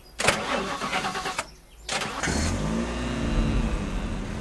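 A car in the zombie survival game The Last Stand Aftermath cranks with a loud burst of starter whir, pauses briefly, cranks again and catches, settling into a steady close engine drone that rises slightly as it revs.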